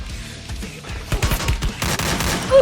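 AK rifle fire in Free Fire Max comes as rapid bursts of game gunshots, dense and fairly loud, growing busier toward the end.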